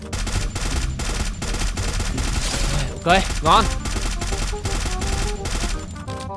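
FAMAS rifle gunfire in the Free Fire video game, sustained rapid automatic bursts that run nearly throughout under game music, with a brief spoken remark in the middle.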